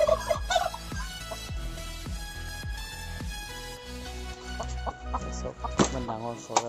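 A large wild titou bird, a partridge, in a village field gives a few short gobbling calls close by, mostly under someone talking.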